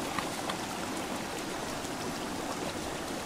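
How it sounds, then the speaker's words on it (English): Water pouring over a small river weir on the Isle of Man, a steady, broadband rushing wash heard fairly close with no voices over it. "A little weir there as well."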